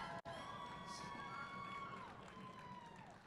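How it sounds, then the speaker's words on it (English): Crowd noise at a middle school VEX IQ robotics competition inside an indoor waterpark venue, a distant wash of cheering and shouting children with a reverberant hall hum and a faint whine running through it. "A round of applause for Flaming Flamingos."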